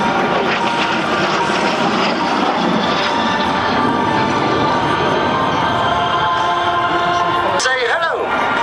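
L39 Albatros jet trainer at an airshow in Belgium, a steady loud jet roar filling the whole stretch with a sharp whine sweep near the end, crowd murmur around.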